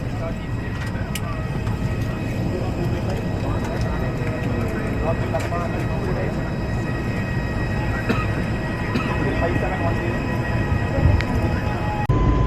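A passenger jet flying from Coimbatore to Delhi fills the cabin with a steady, even roar of engine and air noise that holds for the whole stretch, with voices murmuring underneath.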